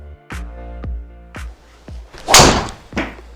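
A Ping G430 golf driver strikes a ball with one sharp, bright crack, surrounded by several duller thumps and knocks nearby. No voices are heard.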